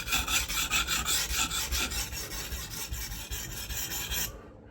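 A knife is sharpened by hand in Japan, its blade rasping across the abrasive in quick, regular back-and-forth strokes, loud and close, before stopping abruptly.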